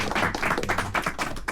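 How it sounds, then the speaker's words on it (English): Audience at the first meeting of the Ithaca Musicians Alliance breaking into a round of applause, dense steady clapping from many hands filling the room without a pause. "So give yourselves a round of applause"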